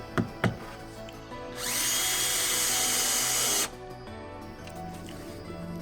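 A power drill drives self-setting screws into a Ford Mustang GT350 splitter guard, whirring steadily for about two seconds after a couple of sharp clicks, loud and close with no talking.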